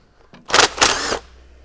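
Hand tools loosen the sump bolts on a rusty, non-running classic Peugeot 404 pickup, giving two short, sharp metallic bursts close by in an otherwise quiet moment.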